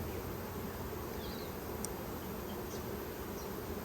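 Honeybees from a hand-caught swarm hum in a steady, dense buzz close by, individual bees occasionally passing nearer with brief rising whines over the continuous drone.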